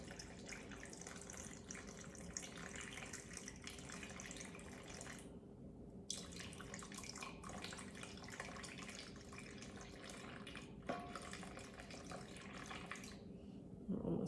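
Warm water for sourdough sandwich bread dough pours and splashes steadily from a tap into a container, fairly quiet and close, with a few brief breaks in the flow.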